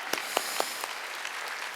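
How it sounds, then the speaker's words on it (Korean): A church congregation claps during a worship service in a gymnasium, a short burst of applause with a few sharp, distinct claps standing out at the start before thinning into a softer patter. "하나님께 박수 쳐요."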